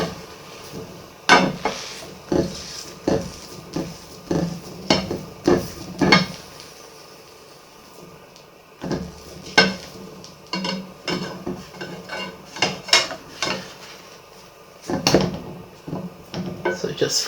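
A healthy pancake flipped in a pan: scattered clinks and scrapes of a utensil against the pan, irregular knocks and taps with pauses, interspersed with speech.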